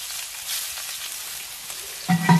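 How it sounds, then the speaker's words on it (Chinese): Ginger stir-frying in sesame oil, a steady soft sizzle with light stirring and a couple of louder clinks of the utensil against the pan near the end. "生姜一起炒一下。"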